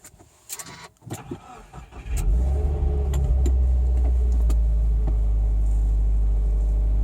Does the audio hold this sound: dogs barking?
no